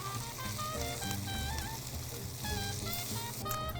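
Eggs, kale and sweet potatoes cook in a pan together, giving a steady close sizzle and crackle of frying food with no talking.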